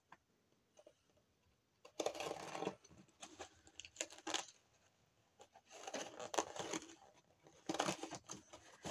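Scissors cut open a package in bursts of snipping and crinkling, close and fairly quiet, with short pauses between the cutting runs.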